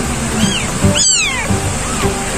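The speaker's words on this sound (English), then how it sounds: "just like our other kittens, the first one were born by Luna" Newborn tiger-striped kitten meowing, two or three thin, rising cries close up over a steady background hum.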